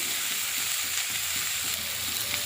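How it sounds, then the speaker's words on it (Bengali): Onion and spice paste with cumin-coriander paste, chili powder, turmeric and tomato frying in a wok for a Bengali katla fish kalia, giving a steady, close, continuous sizzle with faint stirring and no talk. "এবারে মশলাটা ভালো করে কষে নেব"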